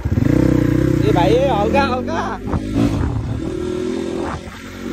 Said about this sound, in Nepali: धेरै पछि चलाएँ मैले यो बाइक